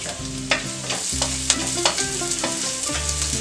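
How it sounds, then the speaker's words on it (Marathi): Finely chopped medium onion frying in oil for a Malvani chicken curry, stirred with sharp scraping clicks against the pan over a steady sizzle, with tonal music playing loudly alongside. "आता आपण बारीक चिरलेला कांदा घालूया."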